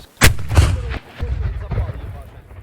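A hand grenade detonates during military training, one sharp, loud blast with a rumbling tail, followed by a few more lower booms and the rumble of the open range.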